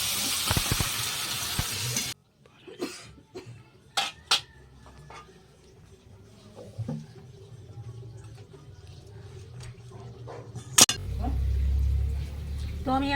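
Water poured into frying spice paste for a Bengali fish curry, a brief loud splash and hiss that settles into a quiet simmer, with scattered clinks of a utensil against the pan and a voice speaking.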